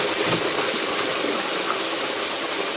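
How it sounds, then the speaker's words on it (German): French fries bubbling loudly in a deep fryer beside a griddle at an outdoor barbecue, a steady, dense frying hiss and sputter that continues without a break. "Und was jetzt so laut blubbert, sind nebendran die Pommes"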